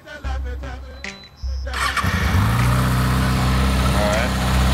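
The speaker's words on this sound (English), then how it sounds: "I'll start it up for you." A street motorcycle engine cranks and catches after a short spell of talking, then settles into a loud, close, steady idle.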